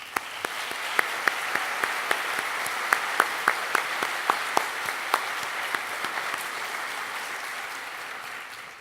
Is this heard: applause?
yes